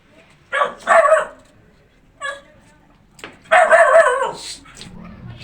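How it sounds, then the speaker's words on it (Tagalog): A dog barks in a house in several sharp bursts: two quick barks, a short yip, then a longer run of barking, fairly close and loud against a quiet background. "Ingay ang aking aso guys."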